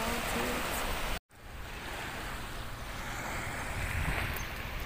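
Waves from the warm Mediterranean sea wash steadily onto a wild beach, with a broad, continuous surf rush and a brief cut early on. A voice speaks faintly at times.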